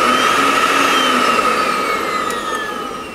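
The blower motor on a Liberator gasifier runs with a steady, loud whine and a rushing airflow, heard close up without talk and easing slightly in volume toward the end.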